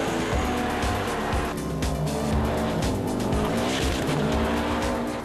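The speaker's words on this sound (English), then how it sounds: "drivers cut corners and curbs in a desperate attempt to improve times" Rally car at a Victorian rally event cornering hard and cutting curbs, its engine roaring loud and close with tire squeal and skidding throughout, gravel and curb impacts mixed into a continuous dense racket.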